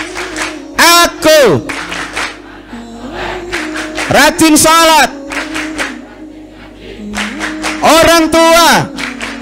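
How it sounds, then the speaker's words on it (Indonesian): Children clap their hands together in rhythmic bursts during a chanted clapping song at an Islamic religious gathering, loud and close, with voices chanting along between the claps. "Tepuk anak soleh."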